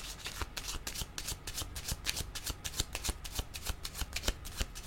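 Tarot cards are shuffled in quick, repeated riffling bursts with a crisp, rhythmic flutter. The shuffling is close and continuous, with no talk.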